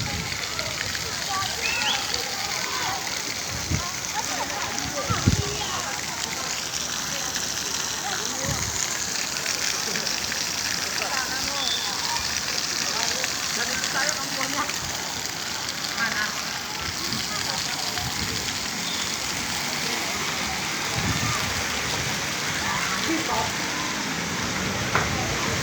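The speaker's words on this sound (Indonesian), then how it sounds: "Air mengalir." Water flowing through a garden, a steady broadband rush and splash running continuously near the listener, with occasional soft knocks and a voice briefly talking over it.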